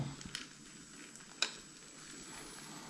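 A flipped fish frying in a pan at a Konkan beach-trip meal, a faint steady sizzle with a few soft clicks and one sharp tap of a utensil.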